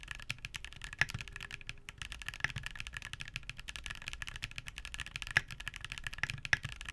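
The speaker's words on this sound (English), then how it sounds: "they definitely stand out among Gateron's Hall effect lineup for their relatively thocky and muted sound signature" Typing on Gateron Hall effect keyboard switches with a relatively thocky, muted sound, a steady stream of soft close-up keystrokes with occasional sharper clicks, heard alone.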